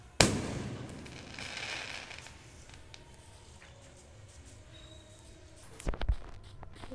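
Firecrackers burst nearby outdoors, one sharp bang early followed by a fading rumble, then a quick cluster of pops near the end, with quiet crackling in between.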